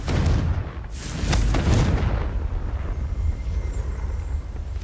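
Confringo explosive spell cast in the video game Hogwarts Legacy: a series of loud, close blasts, with sharp cracks near the start and a heavy booming burst a moment later, then a rumbling tail that slowly settles.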